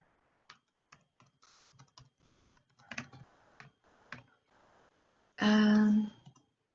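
Typing on a computer keyboard: a sparse run of separate key clicks, then a short dense burst of rapid keystrokes near the end, close and fairly quiet with no talking.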